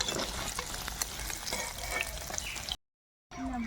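Paneer pieces fry and get stirred in hot oil in a kadai for a patol paneer dish: a close, steady crackling sizzle with spatula scrapes, cutting to a brief silence before the frying resumes.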